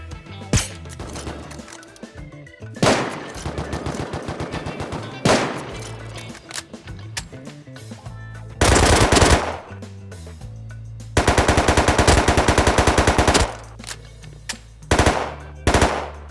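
Automatic rifle fire in the console survival game Rust, heard as several loud, close bursts of rapid shots separated by short pauses, one long sustained burst in the middle and quieter gaps between volleys.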